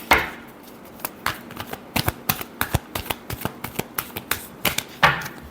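Tarot cards being shuffled by hand, a run of crisp riffling flicks and soft slaps in an irregular rhythm, close and fairly loud, with no voices.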